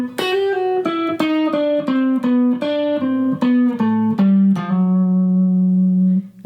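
Clean electric guitar picks a steady stepwise melodic line, note after note, resolving onto a long held low note that fades out.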